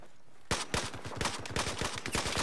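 An automatic gun burst in the video game Battlefield 4, Gun Master mode: a quick run of about a dozen evenly spaced shots, fairly soft and with no voices over it.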